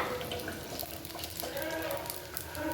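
Water splashing and pouring into a pot of mushroom sambar, close by and moderately loud, with a faint sizzle underneath.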